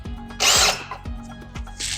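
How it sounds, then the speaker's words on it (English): A power drill bores a hole in a Nissan 350Z part, with one loud whirring burst early on and a shorter one near the end, separated by quieter mechanical clatter. "Go ahead and get our drill on."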